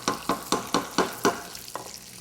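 Eggplant and gravy cook in a pan, with regular scraping stirs every quarter second or so over a soft sizzle, close and fairly quiet.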